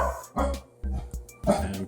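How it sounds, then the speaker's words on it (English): A household dog barks in short, loud bursts close by, with a few yips between them, while a person talks nearby. "cue the dog now that I'm making a video"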